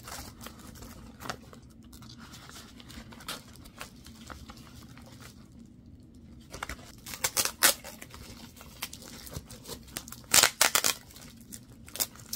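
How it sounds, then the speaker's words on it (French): Packing tape is peeled and torn from a box holding a Monstera Thai Constellation plant, with quiet rustling building to several sharp, close ripping bursts near the end. "Je vais juste enlever un peu de tape là."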